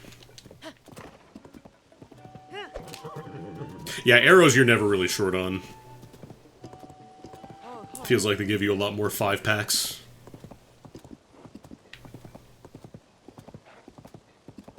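Horse hooves clip-clop in a steady rhythm in the video game The Legend of Zelda: Tears of the Kingdom while someone talks over them, with two louder bursts of hoofbeats and neighing sounds in between.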